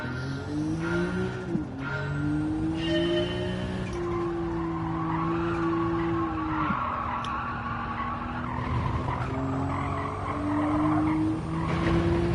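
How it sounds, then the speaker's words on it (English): A GR1 race car engine in Gran Turismo 7 screams through rising gears at Spa, its tone climbing and flattening against the rev limiter with brief tire squeal, loud and continuous without talk. "it hits the rev limiter just as you're about to brake"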